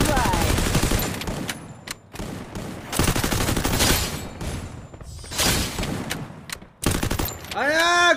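Loud, dense automatic gunfire fills a video game custom match, with rapid bursts and near-continuous shooting, short gaps, and a rising whistling effect at the end.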